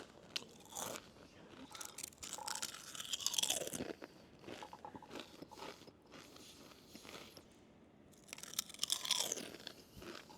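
Crispy tomato-flavoured Weilong snacks crunch loudly and close up in repeated bites and chews, in two busy clusters separated by quieter chewing.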